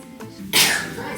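A single sharp sneeze indoors, with a brief intake of breath and then an explosive burst, heard close and alone before the room settles.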